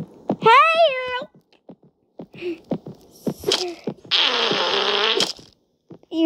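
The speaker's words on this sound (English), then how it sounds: "Use the power of the fart." Fart sound effects from the video game Frogy: a short, wobbly squeaking blast, then scattered soft pops, and later a long, loud, buzzy fart lasting about a second, all close and prominent.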